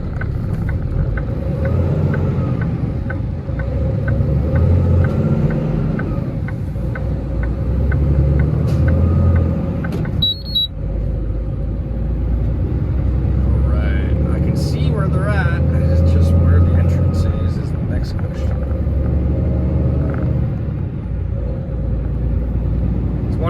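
A semi truck's engine drones in a low, constant rumble from inside the cab while driving through traffic, loud and steady for the whole stretch, with someone talking over it.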